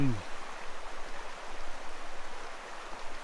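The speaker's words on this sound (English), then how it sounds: "babbling brook. could be rather noisy tonight. It's not quiet, that's for sure." A babbling brook beside a park-up spot in Andorra gives a steady, broadband rushing flow throughout, moderately loud and close, with a brief low tone at the very start.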